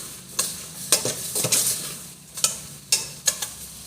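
Eggplant is stir-fried in a pan, with intermittent spatula scrapes and clanks against the metal over a low sizzle, close by and without voices.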